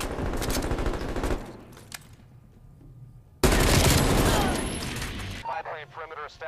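Rapid bursts of gunfire rattle loudly in Call of Duty: Black Ops Cold War multiplayer, automatic fire cutting out, then resuming heavier, with some voice underneath.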